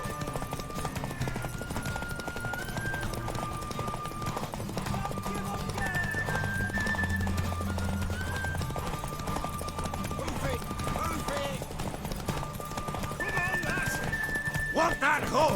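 A horse in The Witcher 3 video game neighs and whinnies while its hooves clop steadily throughout, with voices and game sounds layered over the hoofbeats.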